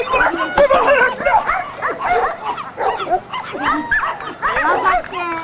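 Small dog yipping and barking excitedly with whimpers, repeated rapid bursts close by, a person talking over it.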